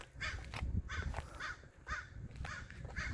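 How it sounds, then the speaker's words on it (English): A crow caws outdoors in a steady series of about six harsh, evenly spaced calls, fairly faint and a little distant, with no talking over it. "Little bird up there, can you hear him?"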